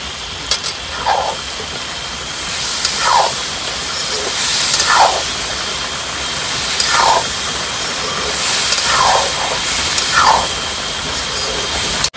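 A pan of egg and potato curry with chilli powder, salt and spices fizzes with steady, loud hiss, close by, with soft brief scraping strokes recurring every couple of seconds and no talk.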